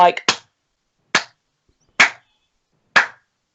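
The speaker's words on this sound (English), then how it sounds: "You hear a solitary slow clap" Four sharp hand claps spaced about a second apart, slow and deliberate, each ringing briefly in an otherwise quiet room.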